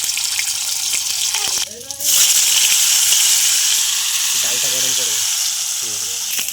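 Paneer cubes frying in hot oil give a steady, loud sizzle that runs through the whole stretch, with a brief break near the start, and a voice talks over it a few times.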